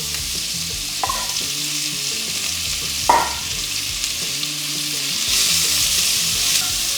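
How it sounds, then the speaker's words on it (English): Onions dropped into a pan still holding browned bits from seared lamb shanks: a loud, steady frying hiss with a couple of sharp utensil knocks, growing a little stronger toward the end, with no voices. "So quickly I'm going in with my onions."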